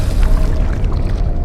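Continuous sloshing, splashing water in the dark horror game MADiSON, loud and close, a steady watery churn with no voices over it.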